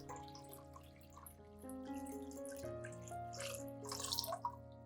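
Clean water poured to make about two liters of mild disinfectant solution for orchids, a steady running and splashing stream with drips and gurgles that rises in the latter half, heard alone with no talk.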